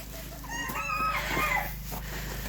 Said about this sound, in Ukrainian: Зараз покажу, які лишилися півночки.